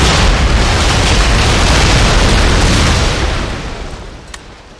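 Grapeshot cannon fire in the Empire: Total War battle game, a loud, rolling, broad boom that sustains for several seconds before fading away.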